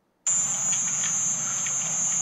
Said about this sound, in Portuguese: Você tá ouvindo então o zumbido né, que está fazendo aí nesse dia. Chama cigarra aí, um inseto.